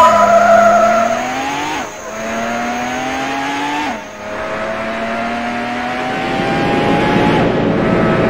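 In the Need for Speed Hot Pursuit 2 racing game, a Mercedes CL55 AMG with a 24-valve V8 engine revs loudly through rising gear shifts as tires squeal and skid continuously, close and prominent.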